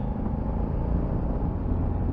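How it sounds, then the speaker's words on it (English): Honda NT1100 DCT motorcycle accelerating on the road, a steady low engine rumble rising with throttle, close and loud with no talk. "I'm just going to squeeze the throttle, increase the speed."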